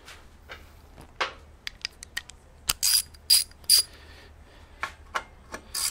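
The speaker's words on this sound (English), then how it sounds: "you can take a 12 millimeter socket. Lefty-loosey that sucker on out of there." A ratchet with a 12 mm socket loosening a fork bolt on a 1970 Honda CL350/CB350 motorcycle; several close, crisp ratcheting clicks in short bursts, with small metallic handling sounds between them.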